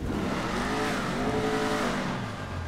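A supercharged Dominator ASP engine revving in the video game GTA Online, styled after a Mustang Cobra SVT R: a loud, raspy engine note rising and falling steadily for a few seconds, close up and without talk.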